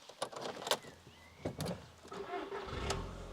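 A first-generation Audi TT with the 1.8L BAM engine and 124,000 miles starts up: a few clicks and clunks from the cabin, then a low rumble of the engine catching and rising near the end.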